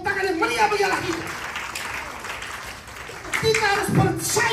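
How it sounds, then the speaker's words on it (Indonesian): Congregation at a GBI LTC Glodok church service in Indonesia claps and cheers, a broad wash of applause running steadily under loud voices and a preacher's exclamations. "Beri tepuk tangan yang meriah kita."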